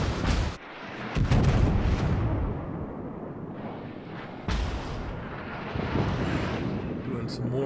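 HMS Vanguard, a British tier-8 battleship in World of Warships, fires its heavy guns: deep, booming salvos with rumbling tails, several blasts spread through the stretch and a voice talking over the game.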